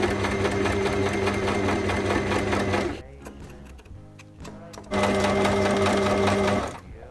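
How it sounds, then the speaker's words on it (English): Sewing machine running fast while stitching paired denim patches for patchwork blue jeans, a loud steady mechanical whir in two bursts separated by a quieter pause. "I pinned them down in pairs and let's start sewing."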